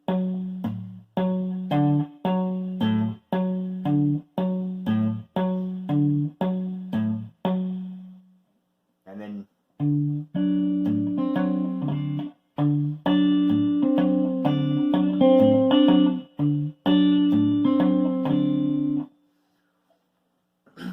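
A guitar plays a plucked Travis-picking fingerstyle pattern, single notes in an even repeating rhythm, pausing briefly before continuing with fuller ringing notes.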